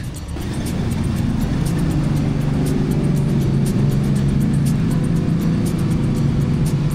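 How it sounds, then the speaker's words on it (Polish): Loud, steady traffic roar from a busy main street in the Philippines, heard from a balcony, with a constant low engine rumble from passing cars that never lets up. "To jest ta główna ulica i na niej jest zawsze bardzo głośno."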